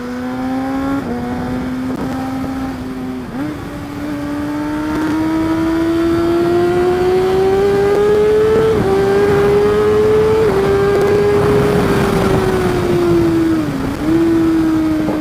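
A Kawasaki Ninja ZX636 sport motorcycle engine revs loud and close, pitch climbing steadily through the gears with brief dips between shifts, droning continuously throughout.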